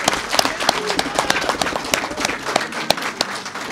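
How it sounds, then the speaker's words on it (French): An audience at a political installation ceremony for the UNC diaspora applauds a named official, with sharp, irregular claps from a modest crowd standing out close and loud over a busy room murmur. "Que nous pouvons applaudir."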